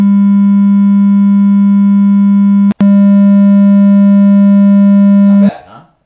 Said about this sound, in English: I'm going to take a sound and then I'm going to make it move.